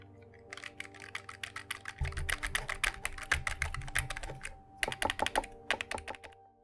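Clicky membrane keys on a Razer Tartarus Chroma gaming keypad are pressed in quick, uneven bursts, close and fairly loud, with short pauses between runs of taps and no voices.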